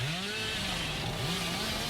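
The Hillbilly's chainsaw in the video game Dead by Daylight, a continuous buzzing motor whine with rising and falling revs, loud and steady over the whole stretch.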